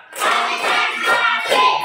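A classroom of students clapping hands together in a counted rhythm, a steady run of dense claps rising and falling in loudness for about two seconds with no talk over them.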